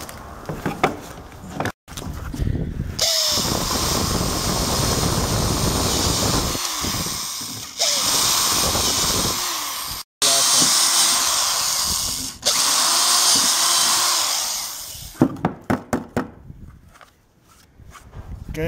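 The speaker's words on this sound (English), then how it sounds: "I'll just go through and drill out my remaining holes," Power drill boring holes through a Kydex sheath: several loud, whining bursts of drilling, each lasting a few seconds, separated by brief pauses and ending in a cluster of short clicks and taps.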